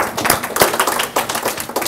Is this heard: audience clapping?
yes